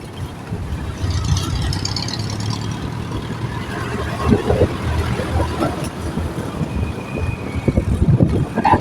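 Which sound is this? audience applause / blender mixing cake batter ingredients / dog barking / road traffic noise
road traffic noise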